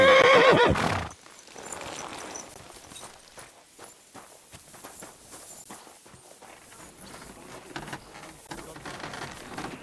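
In the video game Kingdom Come: Deliverance II, a horse whinnies loudly for about a second, then hooves clop steadily and lightly on the ground for the rest of the clip.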